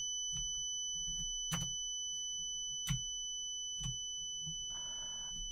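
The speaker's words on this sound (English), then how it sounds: "I hate that ringing really badly." A steady high-pitched ringing tone in the DayZ video game runs through the whole stretch, with a few soft thuds and faint clicks beneath it and no speech.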